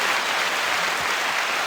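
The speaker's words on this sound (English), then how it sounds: "Clap on that." Steady applause from a group, a dense even wash of clapping that fills the whole moment without pause, fairly loud and close.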